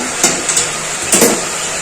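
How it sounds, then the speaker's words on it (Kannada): Vegetables frying in a pan for bansi rava uppittu, a soft sizzle broken by two or three quick stirring scrapes of a spoon against the pan. "ಪಾತ್ರೆನಲ್ಲಿ ನೀಟಾಗಿ ಫ್ರೈ ಮಾಡ್ಕೊಬೇಕು"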